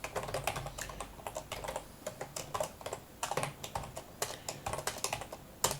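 C++ code is typed on a computer keyboard in rapid, uneven bursts of close key clicks with short pauses between runs and no speech.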